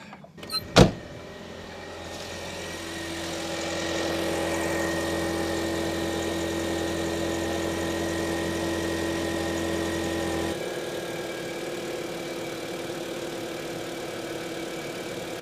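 VW Mk4 Jetta engine cranking with a short starter burst, then catching and settling into a steady idle that runs evenly and close by, dropping slightly in level partway through.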